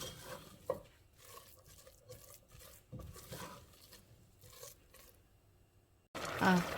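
A spoon scrapes and stirs thick masala in a cooking pot in soft, irregular strokes, ending with a burst of sizzling.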